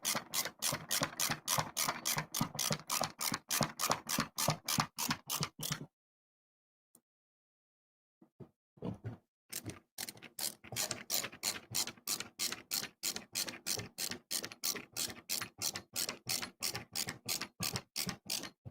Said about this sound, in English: using a ratchet screwdriver is also great exercise, folks.